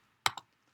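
Two quick, sharp clicks of computer keyboard arrow keys for up and down, close and isolated in an otherwise quiet room.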